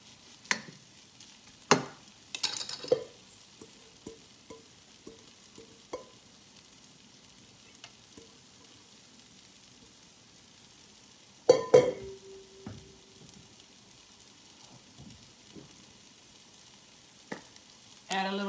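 Potatoes frying in a hot pot and pushed around with a wooden spatula: faint background sizzle broken by sparse wooden scrapes and taps, with a louder clatter of stirring near the middle and again at the end.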